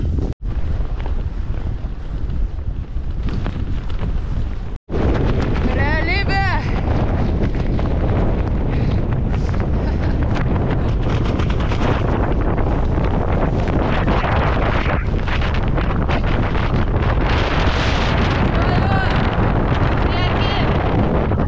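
Strong wind buffets the microphone on a night bike ride in Iceland, a loud continuous rumbling roar that briefly cuts out once and then carries on without letup.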